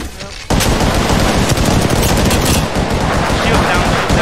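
Rapid automatic fire from an R-301 rifle in Apex Legends, a sustained loud burst of closely spaced shots starting abruptly after a brief quieter moment and continuing steadily to the end.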